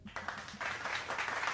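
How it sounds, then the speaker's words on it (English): A short round of applause plays as an effect on a live call-in podcast, a soft patter of many hands clapping that builds slightly over a second and a half, fairly quiet and with no one speaking over it. "Round of applause, Greg."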